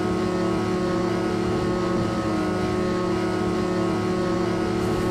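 Steady, loud motorbike engine drone from the video game Snow, laboring uphill on a snowy slope with a constant rough hum and no change in pitch.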